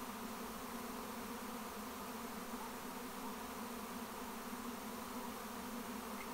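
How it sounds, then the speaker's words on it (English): A dense, steady buzzing hum of a honey bee swarm moving into a hive, continuous and even throughout, with no voices. "So this swarm took about 25 minutes to move into this hive"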